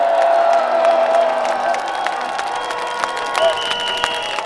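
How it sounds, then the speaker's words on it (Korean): Crowd clapping and cheering at an outdoor presidential election rally near Seoul Station, a dense, loud roar of applause with whoops, steady throughout over a sustained background tone. "여러분 박수 한번 크게 보내주세요"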